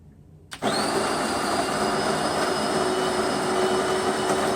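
A Delonghi bean-to-cup espresso machine starts up abruptly and grinds coffee beans with a loud, steady whirring roar and a faint high whine, running continuously up close after a quiet moment.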